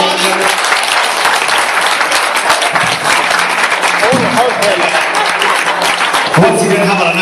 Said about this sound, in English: how about a nice round of applause, ladies and gentlemen?